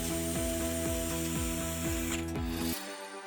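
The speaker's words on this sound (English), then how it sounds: "Spin that nut fast, and finally save your fingers from the grind." A ratchet tool spinning a nut on a construction job gives a steady clicking pawl rhythm in quick repeated sweeps, close and clear, then stops abruptly near the end.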